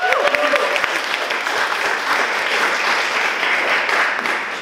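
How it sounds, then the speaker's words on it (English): Listeners at a Toastmasters opening meeting applaud for a guest, a close, loud burst of many hands clapping steadily, with a brief voice near the start. "Shall we give her a round of applause?"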